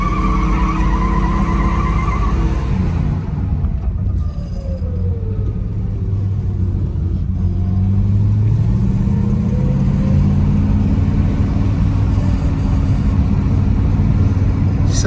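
A car accelerates along a small track, its engine note sweeping up and down with tire-skid noise over a loud, continuous rumble; no talking.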